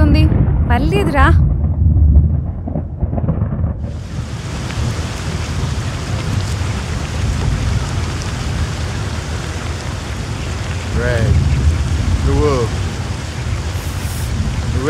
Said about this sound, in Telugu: లోపలికి రా, వర్షం పడుతుంది.